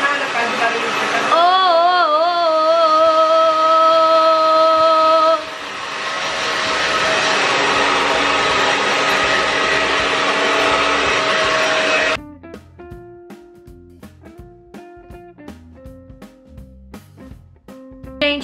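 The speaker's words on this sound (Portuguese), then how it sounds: "Chegou a hora de secar o meu cabelo." A hair dryer blows on someone's hair, a loud steady whooshing rush lasting several seconds, with tonal music-like sounds before it and plucked notes after it.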